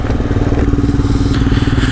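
A motorcycle engine idles and revs close by at the start of a ride toward Goa, with a steady, pulsing low exhaust thump throughout and no talk.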